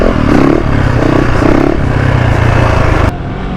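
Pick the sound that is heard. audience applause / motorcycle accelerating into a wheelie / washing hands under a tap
motorcycle accelerating into a wheelie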